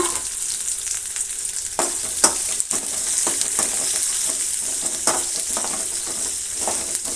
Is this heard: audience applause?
no